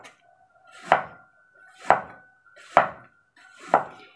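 A knife chops kepok bananas for banana chips on a board with four evenly spaced, crisp, close chops about a second apart, each with a short thud and quick decay, and no talking.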